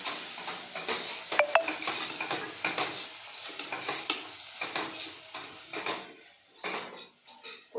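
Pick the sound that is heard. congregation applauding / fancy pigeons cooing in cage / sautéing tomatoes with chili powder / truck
sautéing tomatoes with chili powder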